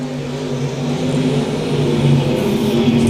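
A dirt track race car at Lakeside Speedway in a USRA Nationals heat race, hammering down off turn 4, its engine roaring loud and steady with a rising, sustained drone throughout.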